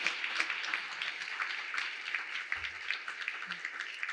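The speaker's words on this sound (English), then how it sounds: "Another big round of applause." An audience at a North Carolina awards ceremony applauds steadily, a dense wash of clapping heard from a moderate distance without pause.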